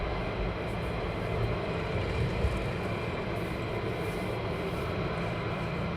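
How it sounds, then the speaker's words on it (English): United States Air Force military jets at RAF Lakenheath produce a steady, broad, distant roar of jet engine noise that holds fairly even for several seconds, with no talk. "these are United States Air Force aircraft here at RAF Lakenheath"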